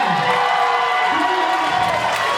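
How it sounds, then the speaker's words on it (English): A luau crowd cheers and whoops for a participant named Julian, a loud continuous wash of voices with shouts rising over it, fairly close. "round of applause for Julian!"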